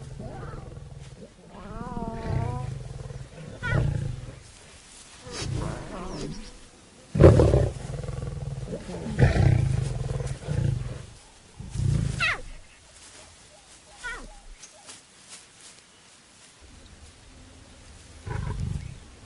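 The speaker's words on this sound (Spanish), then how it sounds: "En su desesperación, los cachorros intentan quitarle la comida a un macho joven." Wild lions roar and growl in a tense squabble as hungry cubs try to take food from a young male, repeated loud bursts of roaring and grunting separated by short quiet gaps.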